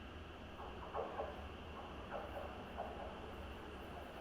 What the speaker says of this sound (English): that does sound like there is another train coming through up here